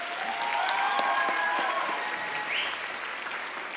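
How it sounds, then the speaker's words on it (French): Audience applause at a live stage show, a steady wash of clapping with a few tonal notes sounding over it. "Vous pouvez m'applaudir un peu plus fort, s'il vous plaît."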